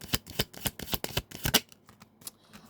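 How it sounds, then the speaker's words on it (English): Tarot cards are shuffled in a quick run of crisp riffling snaps, then a few softer slides as a card is drawn, heard up close and alone. "Give me one more card."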